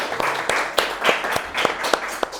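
Light, scattered applause from a small group at a student association podcast recording, a few sharp claps over a soft continuous patter that lasts a couple of seconds.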